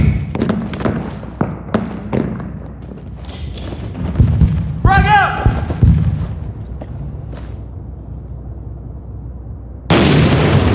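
Grenade blast in the urban combat shooter Six Days in Fallujah, a loud booming explosion with debris and crackle amid scattered thuds, gunfire and someone talking over the game.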